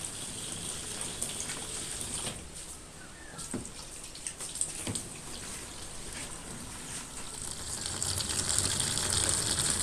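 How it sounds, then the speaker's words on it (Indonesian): Water pours into a Sharp PureMagic ES-T70MW washing machine tub, a steady rushing gush with faint clicks and splashes that swells louder toward the end, with no talking. "Nah, ini sedang mengisi airnya."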